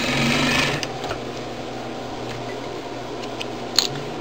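A sewing machine stitching fabric for a quilted phone holder, a steady close mechanical whir running evenly throughout, with a few small clicks near the end and no talking.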